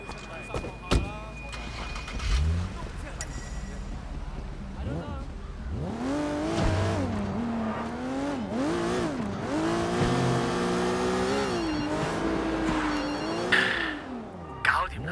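A car in the video game Sleeping Dogs, an engine cranking and starting, then revving with rising and falling pitch as it drives off, heard up close with brief clicks early on.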